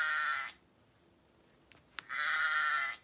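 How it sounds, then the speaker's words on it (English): A sheep bleats twice, two loud, close, wavering cries separated by a quiet gap with a couple of faint clicks, the second call matching the first in length and strength. "A sheep! Can you guys all say a sheep sound?"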